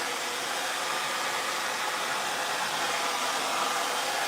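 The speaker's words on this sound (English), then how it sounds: "I'll just go over with the hairdryer now," A hair dryer blows a steady, close hiss of air over a wood finish, holding an even rushing tone throughout with no talking.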